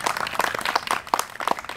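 Scattered clapping from a small outdoor crowd at a Renaissance fair comedy show, voting by applause; uneven individual claps and faint voices mixed in over less than two seconds.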